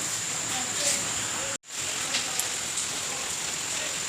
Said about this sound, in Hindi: बारिश शुरू हो गई है, मतलब कड़क बारिश हो रही है